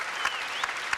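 A raucous crowd at a 1995 professional bowling match applauds and cheers in a steady wash, with several louder bursts of clapping rising above the noise.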